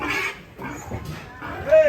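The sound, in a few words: pigs being loaded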